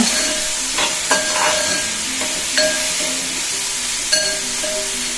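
Steady, close sizzling of pork frying in a pan, with a few scraping strokes and clinks as it is stirred.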